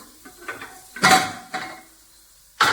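A metal pressure cooker set onto a kitchen stove, heard as a few sharp, close metallic clanks and clatters spaced apart by short quiet gaps, with no talking.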